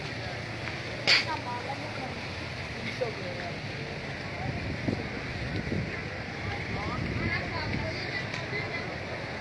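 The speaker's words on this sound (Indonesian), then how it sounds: "Airnya deras banget." Fast flood water rushes past a tilted railway bridge in Cilacap during a flood, a steady broadband roar with wind buffeting the microphone and people talking nearby.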